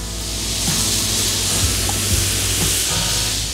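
Bacon hits a hot pan for wild boar goulash, setting off a loud, steady sizzle and hiss that stays close and continuous, with a few soft scraping stirs underneath.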